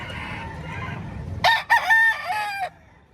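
A rooster crows once, loud and close, at a chicken market in Batangas, with a short rising start and a long wavering call over low crowd murmur, then quiet.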